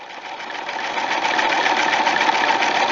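Sewing machine running steadily as it stitches a straight hem along the fold of a chiffon formal dress, a close, continuous whirring hum with no pauses.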